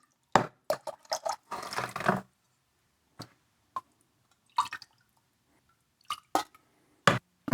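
Liquid clay slip is poured and swirled inside ceramic pots, giving scattered soft splashes, drips and wet sloshing bursts with quiet gaps between them.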